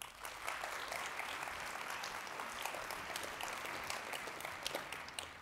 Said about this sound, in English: A hearty round of applause for the Heritage Foundation.